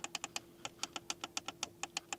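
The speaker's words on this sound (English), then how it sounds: "clicking sounds here for the volume button" Crisp, evenly spaced clicks of a car's volume button, about a dozen in quick succession, close and fairly quiet, like a dial being stepped through its detents.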